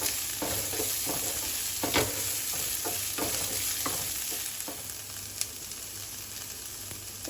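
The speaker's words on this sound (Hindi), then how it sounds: "एक बारीक कटा हुआ प्याज ऐड कर देंगे। इसे भी अच्छे से मिला लेंगे।" Finely chopped onion frying in a pan for sambar is stirred steadily, giving a constant close sizzle with regular scraping strokes of the spoon for the first five seconds, after which the frying hiss carries on more quietly by itself.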